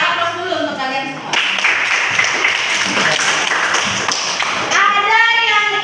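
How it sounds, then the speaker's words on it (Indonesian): Schoolchildren clap together in a classroom, a loud sustained round of applause lasting several seconds, with voices before and after. "aplaus dulu untuk kalian semua"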